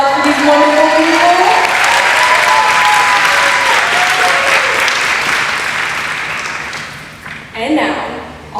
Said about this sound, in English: A round of applause for these wonderful people.